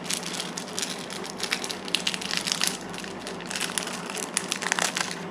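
Plastic wrapper crinkling and crackling as it is peeled off a 7-Eleven sushi pack, a steady close-up rustle with sharper crisp bursts throughout.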